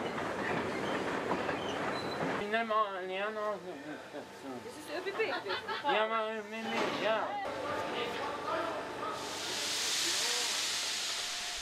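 A train runs on the Wocheiner Bahn railway in the Julian Alps. It rumbles and clatters steadily, with hissing and squealing from the rails and a burst of steam or air near the end, while a voice speaks over it.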